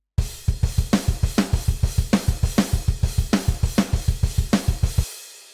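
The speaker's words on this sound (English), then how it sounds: "So what I've got here is the crash cymbal." Programmed pop punk drum pattern with a crash cymbal struck on every beat over a steady kick-and-snare groove, loud and regular for about five seconds before cutting off and ringing out briefly.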